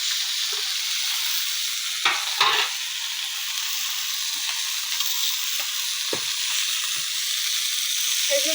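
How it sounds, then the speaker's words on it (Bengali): Fish frying in hot oil in a pan, a steady close crackling sizzle throughout with a few soft clinks and bumps from a utensil. "এই যে মাছ ভেজে রাখছি ওই তেলের ভিতরে এখন দিয়ে দেবো"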